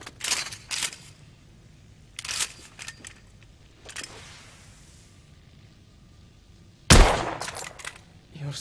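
Rifle with a telescopic sight fired in the video game The Order: 1886, sharp reports spaced out over several seconds, the last one loudest and crackling, with quieter rustling between.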